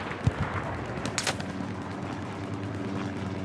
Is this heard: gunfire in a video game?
yes